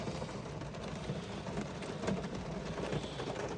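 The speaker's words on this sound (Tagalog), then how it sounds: "grabe ang ulan na to" Heavy rain pouring down in a steady, broadband hiss that stays even from start to finish, with no voices and no pauses.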